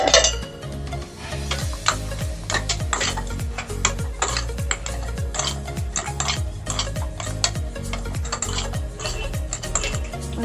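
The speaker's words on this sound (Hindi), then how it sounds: "और इसको हम अच्छे से मिक्स करेंगे।" Fish being mixed with lemon juice in a bowl, a steady rhythm of clinking spoon strokes and wet stirring scrapes repeating close up, with no talking.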